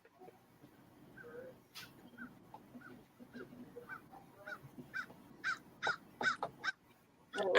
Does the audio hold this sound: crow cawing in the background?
yes